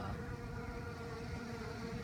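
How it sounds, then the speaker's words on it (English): Feral honeybees buzz steadily and densely while working over old honey frames once damaged by wax moth larvae or small hive beetles, a close, continuous insect hum with no talking. "We're gonna try to help these bees all we can. They're just loving this old honey."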